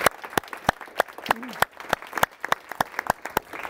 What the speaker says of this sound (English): we will applaud anyone in the room